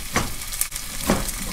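Onion and tomatoes frying in oil in a blue pot, a steady close sizzle with a few scraping stirs.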